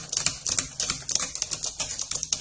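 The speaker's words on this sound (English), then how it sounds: "obviously it can be a little bit clicky compared to a membrane keyboard" Clicky mechanical keys on an Eluktronics Mech 15 G2 Pro gaming laptop are typed in a fast, steady run of sharp, close, crisp clacks with no talking.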